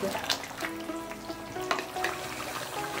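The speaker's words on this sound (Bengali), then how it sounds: "নুনটা অ্যাড করে দিয়ে এটাকে ভালো করে মিক্স করছি।" Mutton kosha with salt and spices is stirred in a frying pan, giving a close, soft sizzle with scraping and tapping from the spoon at an uneven rhythm. Faint tonal sounds run underneath.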